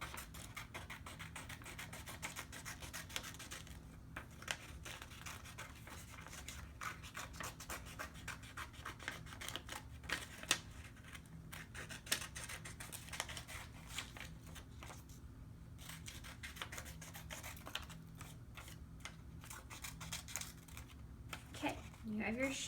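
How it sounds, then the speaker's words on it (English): Scissors cut a paper shoe shape for a children's craft, giving steady snipping and rustling paper sounds close by throughout, with occasional faint speech in the background. "next thing we're going to do is we are going to cut out the shoe"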